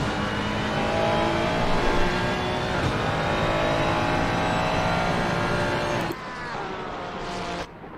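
Race cars fight through a chicane at Zolder in the PC racing game Pan Am Racing, including a Porsche. Dense, loud engine whine sustains for about six seconds, then drops abruptly to a thinner, quieter engine tone.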